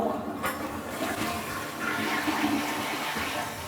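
A household toilet flushing, a close, loud rush of swirling water that runs steadily through the whole stretch and starts with a brief clunk of the handle.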